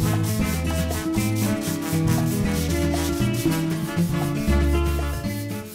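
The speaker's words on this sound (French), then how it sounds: "Je peux maintenant commencer à poncer les champs d'abord avec la ponceuse à bande" A belt sander grinds steadily against wood edges, a continuous abrasive whir with a pulsing rhythm and a low motor hum underneath, close and loud.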